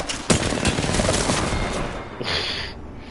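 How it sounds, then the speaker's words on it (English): Rapid automatic gunfire in a video game crackles loudly in dense bursts, with a sharp crack early on, tapering off before a brief distant rattle near the end. "Shooting at us."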